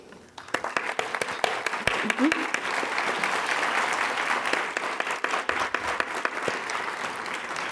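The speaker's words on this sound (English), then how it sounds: "Give them an applause." An audience at a nursing candle lighting ceremony applauds military and retired military personnel, a dense, steady round of many hands clapping that builds quickly and continues at even loudness, with a brief voice near the start.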